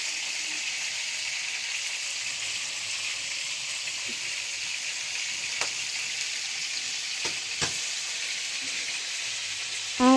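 Food cooking in a pan in a home kitchen gives a continuous even sizzle that stays moderately quiet throughout, with a few faint clicks and taps scattered over it and no one speaking.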